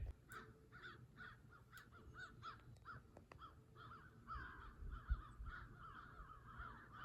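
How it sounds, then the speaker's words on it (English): Several crows caw repeatedly outdoors, their harsh calls coming in a loose irregular series at moderate distance over faint background ambience, with no talking. "Hear those crows?"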